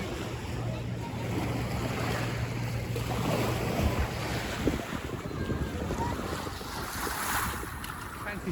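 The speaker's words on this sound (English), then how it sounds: "The paragliders just going over there, and they're just taking off in the boat." Motorboat setting out with paragliders from a busy beach at Alcudia, Mallorca, its engine a steady low drone beneath loud wind buffeting and surf wash, holding throughout without a clear rise.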